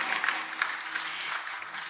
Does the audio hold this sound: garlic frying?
no